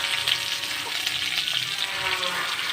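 Chopped onions sautéing in hot oil in a pan for a yam tamarind curry, a steady close hiss and sizzle with faint stirring scrapes throughout.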